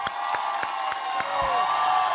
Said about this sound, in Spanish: Un aplauso para recibir al maestro Diego Torres.